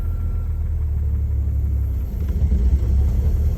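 A project car pulling along in fifth gear gives off a steady low engine rumble and drivetrain drone from inside the cabin, continuous throughout with a slight swell toward the end.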